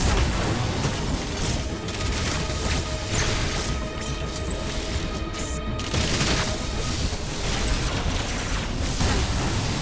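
Dense, continuous barrage of missile fire and booming explosions from a boss fight in the video game Metroid Dread, loud and busy throughout with repeated bursts and crashes layered over game music.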